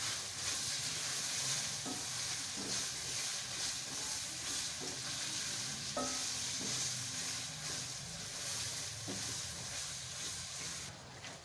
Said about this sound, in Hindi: ये देखिए हमारी तमाम सब्जियों को पकते हुए कुछ देर हो चुकी है